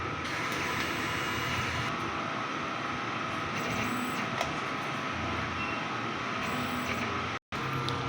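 A DTF printer runs a head clean, giving a steady mechanical whir and hum with faint clicks and shifts, heard close, constant, with a brief cutout near the end.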